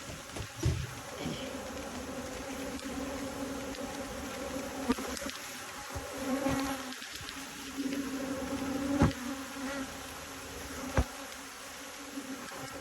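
Honeybees buzz steadily around an open hive during a fall inspection, a dense close drone punctuated by light knocks and handling clicks of frames.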